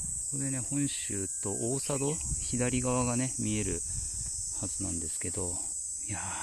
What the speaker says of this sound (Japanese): これね、セミの鳴き声も響いて、